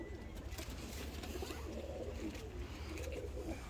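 Pigeons coo steadily and fairly close, repeated low calls running through the whole stretch over a faint background, while newly arrived birds are unboxed.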